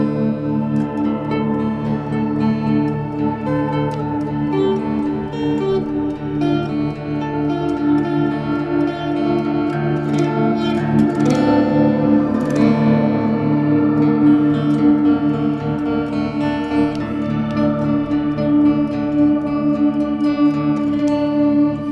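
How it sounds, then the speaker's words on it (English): An electric guitar plays through an Electro-Harmonix Oceans 12 dual reverb pedal, tremolo and shimmer reverbs combined, giving sustained, swelling chords that wash into a dense, pulsing, echoing tail, loud and continuous throughout. "in reverb A, I've got a tremolo, and in reverb B, we've got a shimmer. And here they are together."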